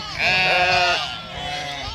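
Sheep bleat loudly and close by in a pen of young ewes with lambs offered for sale, one long wavering cry followed by a second softer bleat, alone without talk.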